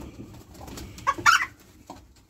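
Close pigeons give short clucking, cooing calls in a brief burst over a quiet low rumble.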